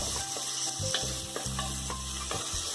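Green chillies sauté in a hot pan for a Kerala chickpea curry, sizzling steadily while a spoon scrapes and stirs with intermittent clinks, close and continuous.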